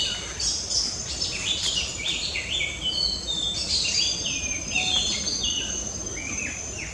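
Many wild birds chirp, whistle and trill at once in dense island jungle, with rising and falling calls overlapping and a steady insect hum underneath.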